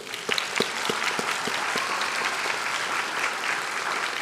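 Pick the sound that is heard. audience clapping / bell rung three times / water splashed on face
audience clapping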